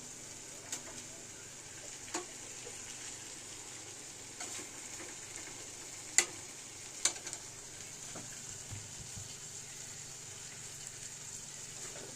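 Fish pieces added to a pan with tomato fry with a quiet, steady sizzle, broken by a few soft spatula taps and clinks spaced through the clip.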